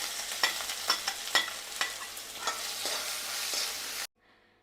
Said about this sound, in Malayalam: ഇനി നമുക്ക് ഇഞ്ചി വെളുത്തുള്ളി ചതച്ചത് ചേർത്ത് കൊടുക്കാം